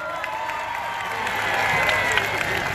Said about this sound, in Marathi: मंडळी एकदा वैशालीसाठी जोरदार टाळ्या होऊन जाऊ द्या